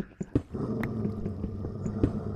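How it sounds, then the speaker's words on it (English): A wolf in modded Minecraft growls in a low, continuous rumble under the game's ambient noise, with a few sharp clicks and knocks near the start. "That wolf isn't happy with that person waking up."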